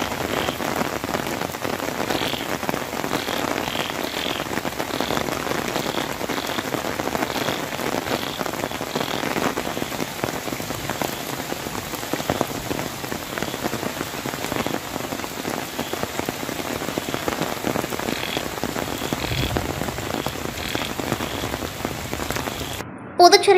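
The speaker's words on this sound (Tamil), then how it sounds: "மேலும் சாலையில் மழைநீர் பெருக்கெடுத்து ஓடியதால் வாகன ஓட்டிகளும் பாதசாரிகளும் சிரமத்திற்கு ஆளாகினர்." Heavy rain pours down steadily onto a flooded road, a dense, loud hiss of downpour that holds without a break for over twenty seconds, with no voices.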